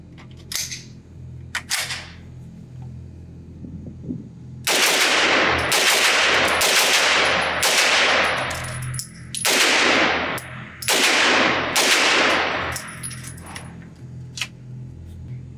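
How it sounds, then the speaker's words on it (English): Rapid gunshots from a Tommy Built TMP 9 short-barreled rifle, an HK UMP 9 clone, at an outdoor range: a few isolated shots, then loud close bursts of fire in quick strings with brief pauses between them. "put 10 or 15 rounds between them and see what happens"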